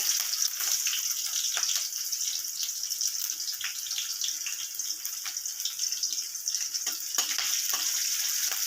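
Chopped onion sizzles in hot oil with cumin seeds in a kadai, a steady bright crackle with scattered pops, close and continuous.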